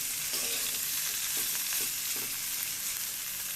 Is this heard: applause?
no